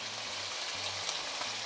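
Chicken thighs searing in a frying pan, a continuous fine crackling sizzle at moderate volume, with a low periodic hum underneath and no voices.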